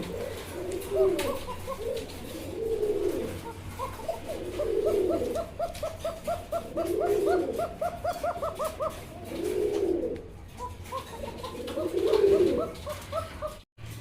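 A koka pigeon coos in long, repeated bouts, each low rolling call swelling and fading at a steady rhythm, close and clear, with faint voices in the background.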